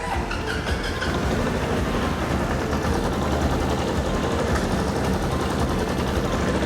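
A 40-year-old Honda CB750 motorcycle engine with an oil-leaking carburetor runs loud and close, a rapid, rough, steady mechanical rattle that carries on with no voices over it.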